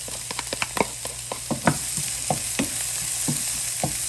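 Red and sweet peppers frying with beef ribs in a pan on a stovetop, giving a steady sizzle broken by sharp scrapes and clacks of stirring, close and without talk.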